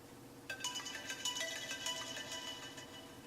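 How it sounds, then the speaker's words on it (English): An iPhone 7 that sat soaked in Coca-Cola plays a ringtone at maximum volume, a repeating bright electronic melody that starts about half a second in and carries on with slightly muffled, steady notes. "We're going to play a ringtone here."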